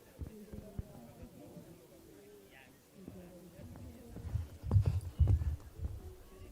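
Horse hooves on a show jumping course, faint irregular clip-clop thuds building to heavier, louder pounding near the end, distant arena ambience with speech in the background.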